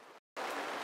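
Steady rain hissing down on a sailboat during a stormy stretch of sailing off Panama, a soft even wash that cuts out briefly and then returns slightly stronger.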